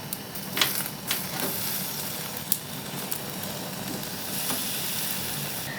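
An aubergine chars directly on an open fire, giving off a steady close crackling hiss with a few sharp pops and faint taps; no voices.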